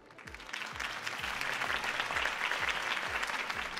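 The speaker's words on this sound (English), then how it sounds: "could have heard that applause" In the Telltale Batman video game, a crowd applauds a campaign speech with steady, fairly loud clapping throughout, backed by a low pulsing beat.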